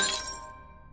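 Glass shatters from a fist punch in a single bright, close burst, with the crash quickly thinning into fading tinkling fragments.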